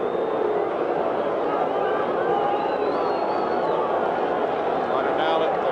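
A baseball stadium crowd keeps up a steady, dense roar of murmuring and cheering through the whole stretch, with a play-by-play voice talking over it.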